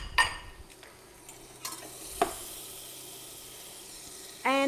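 Margarine melts in a pan with a low, quiet sizzle, marked by a couple of clinks of a utensil and a louder rush of frying at the very end.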